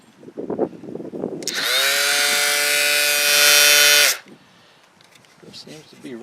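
A DeWalt orbital sander with a broken hook-and-loop pad runs loudly for about two and a half seconds with a high, buzzing whine, then shuts off. Someone talks before and after it runs.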